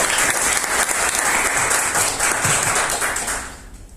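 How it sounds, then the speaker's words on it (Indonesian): Loud, steady applause from an audience at a talk or show honoring Danang, sustained clapping for nearly four seconds before fading out. "Tepuk tangan buat Danang"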